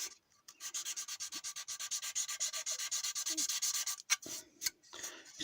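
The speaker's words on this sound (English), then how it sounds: "You sand it off till it's completely gone." Sanding a molded door handle off a plastic scale model car body, a steady rapid back-and-forth rasping scrape repeated in even strokes, close and fairly quiet, with a few sharper scuffs near the end.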